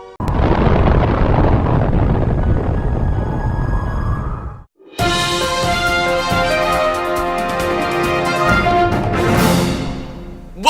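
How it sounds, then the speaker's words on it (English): A huge staged explosion of a nuclear-powered Toyota Prius prototype roars as a loud, sustained rumbling blast, cuts out briefly, then returns as a long crackling, rolling boom with no talking over it. "Detonation will commence in 10 seconds."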